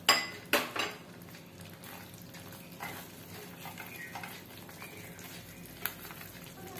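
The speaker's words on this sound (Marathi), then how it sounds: "दोन मिनिटं परतून घेऊया।" Deep-fried eggplant being stirred into cooked masala in a pan for restaurant-style baingan masala, with a few clanks of a spoon against the pan over a low sizzle and soft scraping, fairly quiet and close.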